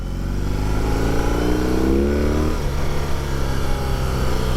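A 2021 BMW R 18 twin boxer motorcycle revs steadily close by, its deep engine note climbing in a rising sweep before dropping back to a rough, throbbing idle, loud and continuous with no talk.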